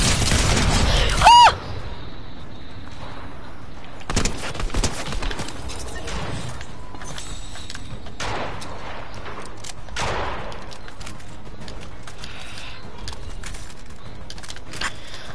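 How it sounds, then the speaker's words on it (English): Video game gunfire from bots shooting at players, with a loud burst at the start and then scattered faint distant shots and pops over a steady ambient background. "I just hear bots shooting at players"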